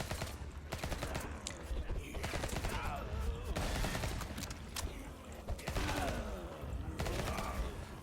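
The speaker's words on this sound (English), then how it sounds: "Let's get shooting." Rapid gunfire in the video game Bloodshed, dense bursts of shots crackling continuously at a steady level, heard alone without talk.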